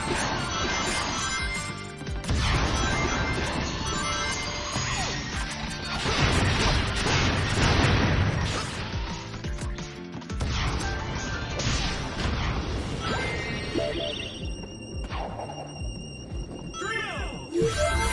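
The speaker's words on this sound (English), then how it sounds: "Please avoid breaking the glass." Glass smashes in Sonic Colours Ultimate. Loud crashing and shattering impacts hit repeatedly over energetic game music and effects, with dense bursts through the middle.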